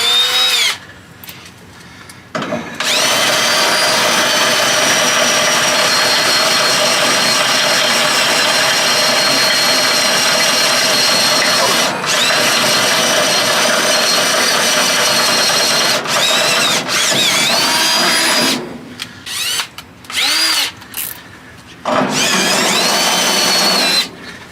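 A power drill with a step bit bores bolt holes through the steel bumper of a Chevy C50 truck, one long loud whining run of about twenty seconds, with short bursts before and after and brief pauses between.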